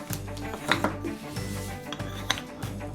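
A wooden toy birthday cake held together with Velcro is cut apart into slices, giving close, scratchy rasps and light wooden knocks in a few uneven bursts.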